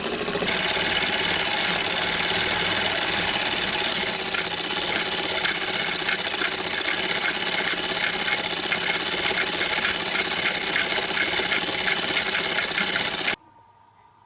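A 1920s Pathescope movie projector runs film through its mechanism with a loud, steady mechanical clatter and ticking of notches passing, continuing unbroken for about thirteen seconds before stopping abruptly.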